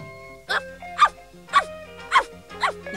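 A puppy gives five short, high yips in an animated cartoon, evenly spaced and close, over a faint background tone.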